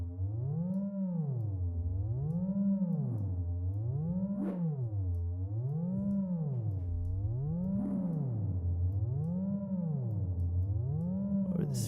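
An ambient synth pad built in Reaktor, routed from a filter into reverb with a long decay, holds a sustained tone whose pitch sweeps up and down in a slow, regular wave, steady and moderately loud with no talking.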